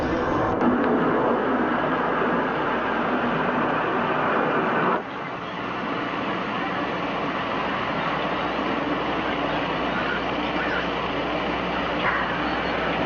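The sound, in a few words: aircraft circling overhead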